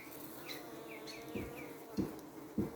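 Honeybees buzzing around weak hive colonies, a steady faint hum with a few low thumps, and an insect or bird chirping faintly in the background.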